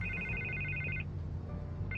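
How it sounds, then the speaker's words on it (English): A telephone rings in the Batman Telltale Series video game, a steady electronic trill repeating for about a second, pausing, then starting again over a low ambient hum. "I can't get the phone to stop ringing."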